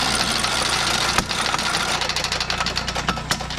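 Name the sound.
walk-behind mower engine clanking from a blown connecting rod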